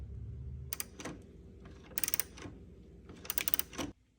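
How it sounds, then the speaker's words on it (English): A ratchet wrench loosens a nut while steps are fitted to a 2019-2025 Chevrolet Silverado or GMC Sierra 1500, giving three close bursts of fast clicking with short pauses between them. "we're going to go ahead and take off that nut right there"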